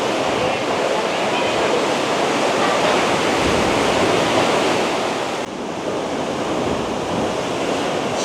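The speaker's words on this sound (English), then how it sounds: "See the ocean now coming right up to the edge of the steps here." Ocean waves surge and crash at Suluban Beach, Bali, a dense, loud, continuous roar of surf close by that fills the whole stretch.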